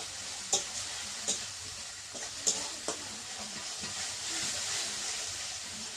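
Spice paste with coriander leaves being stir-fried in a pan, a continuous hiss and sizzle with a few sharp clicks of a spatula scraping and tapping the pan.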